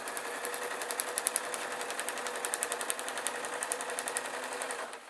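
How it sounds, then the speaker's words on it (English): A domestic sewing machine stitches through a quilt, running steadily, its needle tapping in a fast even rhythm, close and moderately loud, before slowing to a stop. "I'm using the sewing machine."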